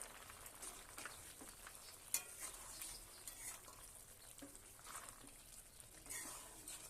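Pumpkin stems fry with cumin paste in a pan, a faint, soft sizzle with light stirring scrapes and one brief clink, no voices.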